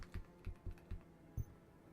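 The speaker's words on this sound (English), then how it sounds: "New keyboard today as well." A new computer keyboard is typed on in a few quick, close, soft keystrokes with a short pause before a final louder tap.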